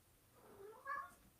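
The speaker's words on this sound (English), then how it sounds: "My cat is meowing his head off" A male house cat meows from somewhere off in the background, one faint, drawn-out cry that swells near its end and then trails off, heard on its own in a quiet room.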